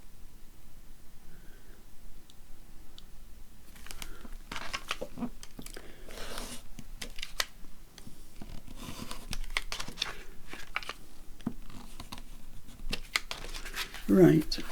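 Journal hinge pieces are cut out of paper or card for an accordion shabby chic journal, with irregular snips, crinkles and crisp rustles close by while a voice talks over much of the work.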